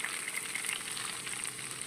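Grated carrot sizzles in hot oil in a pan, a soft, even crackle and hiss that stays constant throughout, fairly quiet and with no talking.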